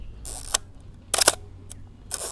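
A Fuji GX680-style medium format camera fitted with an 80mm lens fires its shutter three times with crisp mechanical clacks, one of them a quick double click, close and loud with short pauses between.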